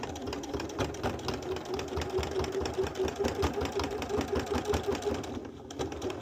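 A sewing machine runs a tight zigzag satin stitch around a distressed tank top in a fast, close, rhythmic mechanical whir that pauses briefly near the end.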